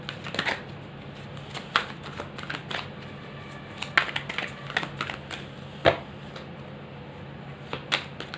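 Tarot cards being shuffled up close to draw a card, crisp flicks and riffles in irregular bursts with short pauses between them, no talk.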